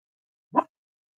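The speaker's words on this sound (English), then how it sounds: "Obviously that's a bark, but it's often more of a howl." A pet dog named Jerry gives a single short bark with a slightly howl-like quality, alone and at moderate distance in a quiet room.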